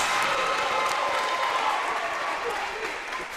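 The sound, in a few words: crowd applauding after an ace in a volleyball match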